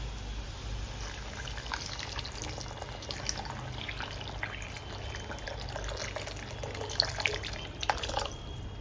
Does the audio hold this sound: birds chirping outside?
no